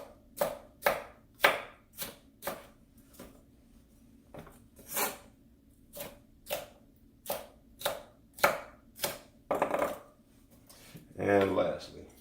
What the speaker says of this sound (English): We're going to julienne these.